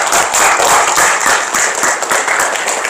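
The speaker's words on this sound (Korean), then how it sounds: "박수 한번 해주시고요" A crowd applauds steadily at a Korean institute's launch ceremony, dense continuous clapping filling the room at full volume with no pauses.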